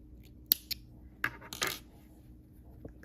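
Scissors make a few sharp, close snips while trimming crochet yarn on an X-twist headband ear warmer, with quiet pauses between the cuts.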